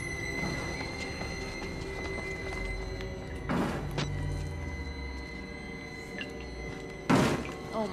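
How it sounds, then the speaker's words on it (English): In the Outlast video game, someone bangs on a door in two heavy, widely spaced thuds amid a low, eerie ambient drone, with no talk. "there's someone banging on the door down here."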